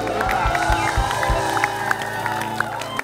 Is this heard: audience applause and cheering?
yes